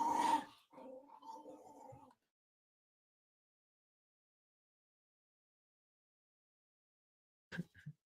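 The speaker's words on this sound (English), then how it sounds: "Damn dog gonna cuss me." A dog growls and whimpers indoors during a live sports betting talk show: a sharp burst, then a drawn-out whiny moan for about a second and a half, long silence, and one brief muffled yelp near the end.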